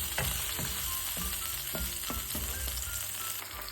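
Tomatoes fry in a pan for tuna pasta, a steady close sizzle with periodic scraping stir strokes and no talking.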